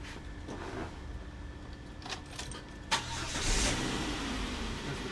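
A 2001 Volvo S60 with the non-turbo 2.4 engine cranks briefly and catches, settling into a low steady idle, recorded close by with a faint background hum.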